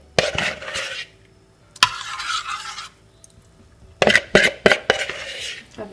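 A cornstarch and milk mixture is stirred in a pot over gentle heat. A spoon scrapes and clinks against the pot in separate bursts, with quiet gaps between them.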